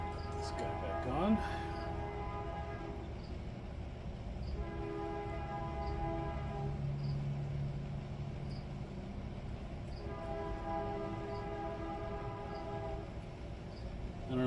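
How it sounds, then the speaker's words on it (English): A train passes in the background about two blocks from the tracks, its horn sounding in long sustained blasts, faint and distant, under low ambient noise. "I don't know if you can hear that train in the background."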